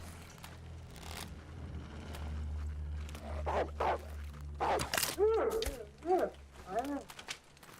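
Dog barking and yipping inside the survival video game The Long Dark, several sharp bursts of barks in the second half over a steady low game ambience, with a person talking throughout.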